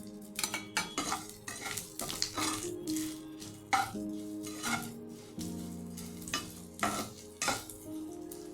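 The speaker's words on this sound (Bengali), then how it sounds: "চিড়াটা ভেজে নিই।" Flattened rice frying in hot oil in a wok, with steady sizzling and repeated scraping and clanking of a spatula against the metal pan, close and busy throughout.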